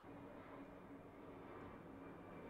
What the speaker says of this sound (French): De retour pour la troisième fois, l'avion est passé.